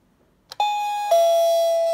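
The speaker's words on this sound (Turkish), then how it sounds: "Hareketi gördüğünde ding dong sesini çıkartır." A wall-mounted motion-sensor warning device powered by a 12-volt adapter gives a clear two-tone ding-dong chime, the first tone struck and the second ringing on, loud and alone.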